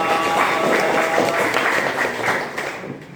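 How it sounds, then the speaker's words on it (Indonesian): Classroom applause from students clapping their hands together, a steady dense patter of many hands at moderate loudness that fades slightly toward the end. "Oke, tepuk tangan dulu dong."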